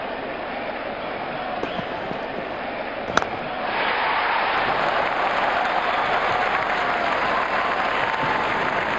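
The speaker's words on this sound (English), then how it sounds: "Crowd is going crazy here." In the Sachin Saga Pro Cricket mobile game, a crowd roars steadily as a continuous wash of cheering and clapping, with a sharp knock partway through and the roar swelling louder for the second half.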